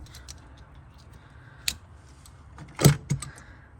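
A 5/8 inch socket turns out an old plastic low tank level switch, giving a few sparse metallic clicks and a sharper clatter near the end, quiet and close with faint background hum.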